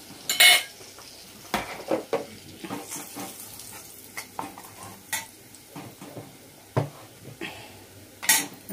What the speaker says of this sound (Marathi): आता मी गॅस लावून घेते आणि मसाले थोडेसे हलकेसे तेलावर परतायचे